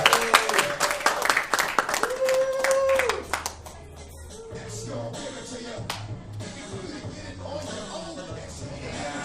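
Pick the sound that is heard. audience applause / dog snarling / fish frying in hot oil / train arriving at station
audience applause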